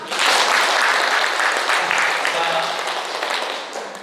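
An audience in a lecture hall bursts into loud, dense applause, strongest at the start and tapering slightly over four seconds, with a voice faintly under it.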